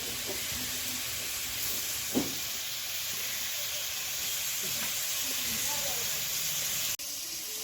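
Spices, water and chopped tomato hit hot oil in a pan, giving a steady, loud broadband sizzle and hiss that runs throughout, with a brief sharp splash near the start and a small clatter near the end.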